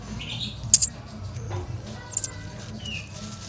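A canary chick gives short, high, thin chirps while being fed grain seed, a few bright cheeps over a low background rumble, fairly close.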